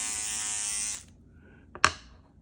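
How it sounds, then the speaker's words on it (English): A single-cell electric toothbrush running on one AA battery gives a steady, high buzzing hum for about a second, then stops and is followed by two sharp plastic clicks, close up with no voices. "This is a single cell electric toothbrush that takes a AA battery. It's on."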